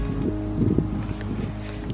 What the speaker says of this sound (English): It's pretty windy at the moment